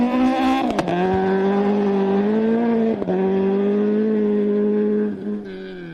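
Ford Escort Mark II rally car with a 2.4 Duratec engine and sequential gearbox on a gravel rally stage in South Canterbury, loud and close, revving high with sharp gear-change dips before fading slightly at the end.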